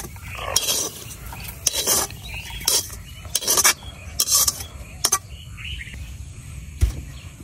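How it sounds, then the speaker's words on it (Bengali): Onions fried in a dry pan without oil being stirred and scooped out, with a series of loud scraping, clinking strokes of a metal utensil against the pan over a faint background, close up and without talk. "পেঁয়াজ গুলো আমি ভাজা নিছি এখন পেঁয়াজ গুলো নামাই নিতেছি"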